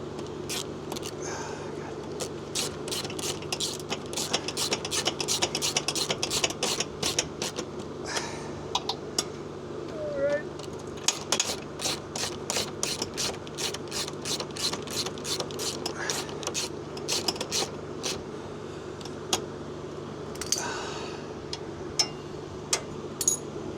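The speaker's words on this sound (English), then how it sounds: "See if I can get a wrench in here." A wrench ratcheting in a tight spot while working on a Ford Ranger Raptor for a trailer plug relocation, with repeated quick clicking over a steady background hum, close and fairly loud, no talking.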